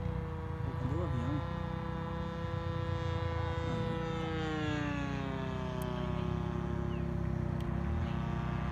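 A Tucano T27 20cc model airplane flies past, its steady engine drone sliding down in pitch as it goes by, loud and continuous throughout, with a brief warbling tone near the start.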